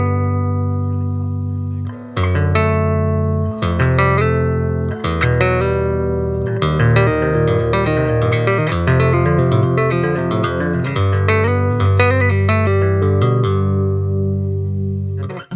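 Electric guitar tapping through a Laney Digbeth Foundry Series amp with boosted mids, fast ringing note runs with a dense harmonic tone and light reverb, played steadily and loud with no talk.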